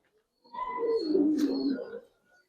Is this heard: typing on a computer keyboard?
no